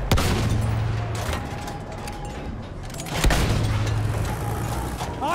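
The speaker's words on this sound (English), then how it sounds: "Enemy machine gun. There's a machine gun." Enemy machine gun fire in the World War I shooter Battlefield 1, a dense, continuous rattle of gunfire with sharp louder bursts near the start and around the three-second mark, mixed with distant battlefield booms and engine rumble.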